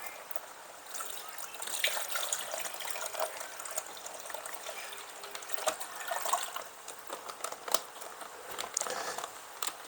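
Water trickling and dribbling steadily during drip acclimation of rare Caridina shrimp, a continuous close light stream with small gushes and faint crinkling, no voices.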